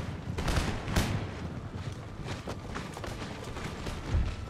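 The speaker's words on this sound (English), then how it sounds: "First volley from the militia. Artillery's landing in amongst the troops." A militia musket volley and artillery fire in the video game Empire: Total War: crackling, rippling gunfire with heavy booms landing at irregular moments, dense and continuous, with no talk.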